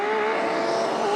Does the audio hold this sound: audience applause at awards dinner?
no